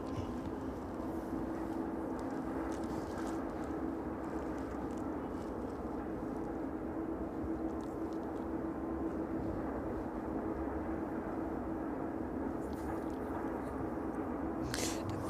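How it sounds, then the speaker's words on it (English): A Boeing 777 airliner descends toward the runway at East Midlands Airport, its engines a steady distant roar with a constant droning hum, unbroken for the whole stretch. "we wait for this 777 to make its way down"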